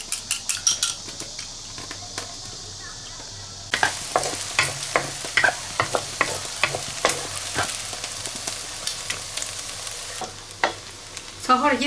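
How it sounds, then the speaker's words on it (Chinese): Beaten egg poured into a hot wok and stir-fried, a steady sizzle with sharp repeated clinks and scrapes of a spatula against the metal, growing louder and busier partway through, with no talk. "准备好的鸡蛋液，我再倒到锅里"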